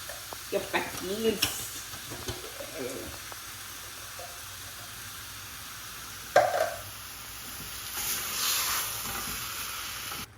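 Beans tipped into a hot pot of chakalaka, a South African relish, set off a steady frying sizzle and stirring scrapes, with a clatter midway and a hissing swell toward the end under occasional faint voices.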